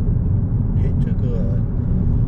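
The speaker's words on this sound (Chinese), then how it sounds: "公共汽车是绕着这个岛开的" A public bus drives around Oahu, its engine giving a steady, loud low rumble throughout, with faint brief sounds above it.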